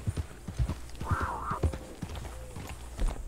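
A horse in the video game Red Dead Redemption 2 clip-clops along in close, uneven hoofbeats, with a brief whinny partway through and soft background sounds.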